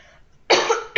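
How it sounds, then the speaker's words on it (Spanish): A person coughs twice close to the microphone during a late-night online class session, a longer harsh cough followed by a short second one after a brief quiet moment. "si ven que ya me dio tos otra vez."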